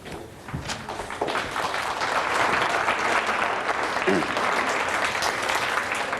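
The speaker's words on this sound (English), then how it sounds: "I'd like to get the applause over with to start with." An audience at an astronomy lecture breaks into applause, starting thin and swelling into sustained dense clapping that holds steady, with a few thumps mixed in.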